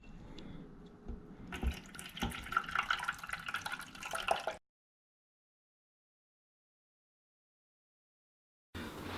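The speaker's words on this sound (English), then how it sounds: "Now time to put in the mineral water, right up to the fill lines." Mineral water is poured into a record cleaning bath in a few seconds of splashing and trickling, then the sound cuts off into silence before faint noise returns at the end.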